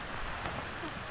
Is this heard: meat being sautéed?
no